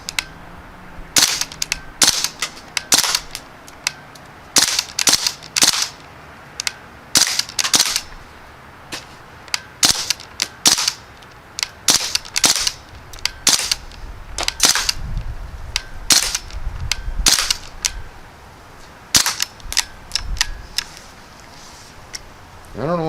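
A Crosman Panther Arms DPMS CO2-powered BB rifle firing outdoors, sharp snapping shots in irregular single and rapid bursts, loud and close, with occasional low handling noise between shots.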